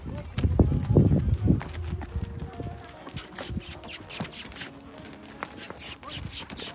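Hooves of a ridden horse clip-clop unevenly as it moves off, close by, with loud voices calling and talking over them.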